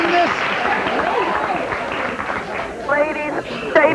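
Studio audience of a daytime talk show applauding, a steady broadband clatter of many hands throughout, mixed with voices talking over it.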